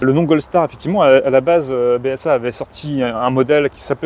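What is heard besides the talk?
No everyday noises stand out.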